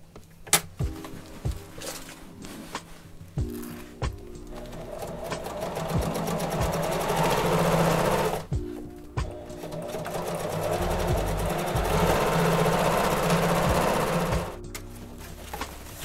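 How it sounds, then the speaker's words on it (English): A sewing machine stitches seams on a Crye Precision JPC cummerbund. The motor whirs in long continuous runs with brief stops and sharp clicks between passes, close and clear with no talking. "all you do now is you stitch the seams closed"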